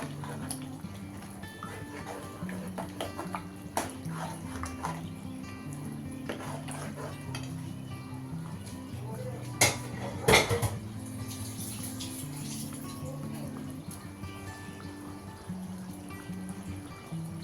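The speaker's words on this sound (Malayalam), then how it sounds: "ഒന്ന് ഇളക്കി കൊടുക്കാം നമുക്ക് നന്നായിട്ട്" Gravy for Kerala-style chicken biryani is stirred in a pot, with scattered metal clanks and scraping over a steady busy kitchen background, and one louder clatter near the middle.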